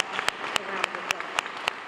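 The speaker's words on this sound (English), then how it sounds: "Give her a round of applause for just being in this beautiful facility." Applause from an audience at a school event, a steady patter of many hands with a few sharper claps standing out, fairly quiet and distant.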